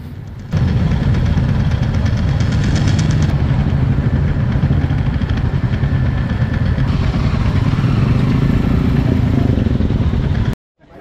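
A line of Royal Enfield motorcycles idles at close range in a beach parking area at Bheemili, with a steady low thumping rumble and some clatter for about ten seconds before it cuts off abruptly.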